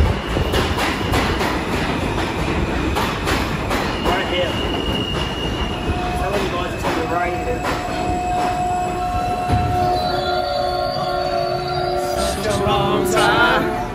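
A London Underground tube train running loud and close throughout, with steady rumbling rail noise, rattling carriages and long high wheel squeals toward the end.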